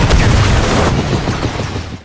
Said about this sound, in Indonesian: gelombang ledakan menghantam helikopter